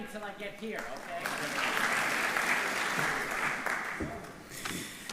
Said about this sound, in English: Keep applauding till I get here